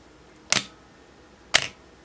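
An Asahi Pentax ME 35mm film camera with a Pentax-M 50mm f/1.7 lens fires its shutter at a slow speed, giving two crisp mechanical clicks about a second apart, each a short sharp snap with a brief tail, close and alone in a quiet room.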